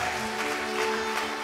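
A church congregation claps together, a dense, steady wash of applause holding at an even level throughout, with a faint sustained tone underneath.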